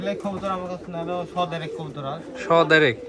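High-flyer pigeons coo repeatedly in low, rolling murmurs that overlap one another, fairly close, with a louder burst of cooing near the end.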